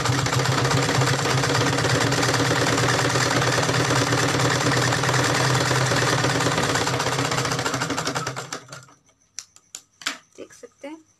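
A sewing machine stitches along a blouse edge in a loud, continuous close run for about eight seconds, then stops, followed by a few sharp clicks and handling noises.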